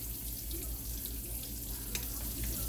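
Whiting fish fillets fry in a pan with a steady, soft hiss and faint crackle, a continuous low sizzle at a distance with one small pop and no talk over it.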